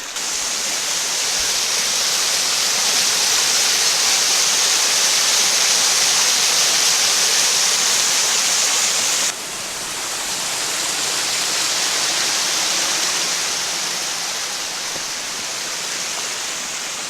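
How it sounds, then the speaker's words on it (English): Mill Creek Falls spills toward the Susquehanna River in a steady, full roar of falling water, close and unbroken, with a slight dip in level partway through and no voices. "So let's go check out Mill Creek Falls."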